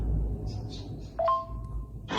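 A phone number is being dialed, heard as a few faint electronic tones followed by a long steady tone, ending in a brief burst of noise over low room hum.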